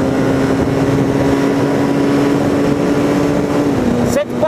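Honda CBR 450SR motorcycle engine revving hard in third gear, a loud steady high-pitched whine with rising pitch, wind noise throughout and a brief shift-like dip near the end.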